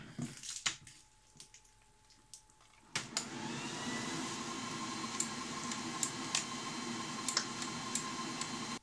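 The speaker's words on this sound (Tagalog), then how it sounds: "Saksak natin yung ating 800 watts na grinder." An 800-watt electric grinder powered from a portable power station kicks on with a sudden loud motor whine and then runs steadily at full speed, with a few sharp clicks and ticks over the continuous drone.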